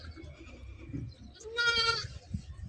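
One goat gives a clear bleat lasting about half a second in a village farmyard, with rustling and handling noises around it and low background voices.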